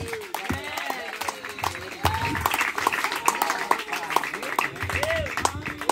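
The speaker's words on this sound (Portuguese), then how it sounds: "E recebo o servo de Deus com palmas, bem alegre para Jesus." A church congregation claps steadily and enthusiastically, dense applause filling the space while voices and singing carry underneath.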